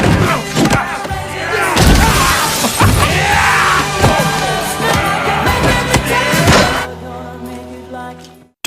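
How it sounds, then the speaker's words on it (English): A framed photograph is knocked to the floor and shatters, a sharp crash of breaking glass amid thumps and scuffles of a struggle indoors, loud and close before it falls quiet. "The picture was knocked to the ground and shattered into pieces."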